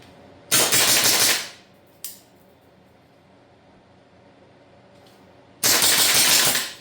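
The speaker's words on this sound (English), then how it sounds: "I'm gonna try doing a couple build drills, film it" An airsoft gun fires two rapid bursts in a garage range during a bill drill, each a dense run of quick shots, with a brief single crack between and a quiet pause before the second string.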